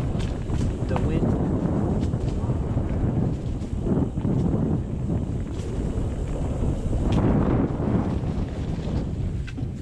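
Strong, chilly morning wind blows outdoors on a forest trail, a loud constant blustering rush hitting the microphone, with people talking over it.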